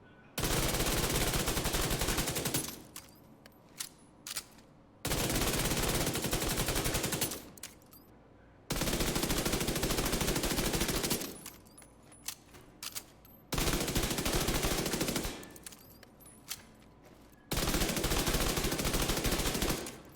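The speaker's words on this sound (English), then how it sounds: "I just want to quickly show you guys both of the recoil patterns for both of the weapons." Submachine guns, an MPX and an MP5, firing in the video game The Division 2: four long sustained full-auto bursts of rapid gunfire, each lasting about two to three seconds, separated by brief gaps with scattered shots, loud and with no talking.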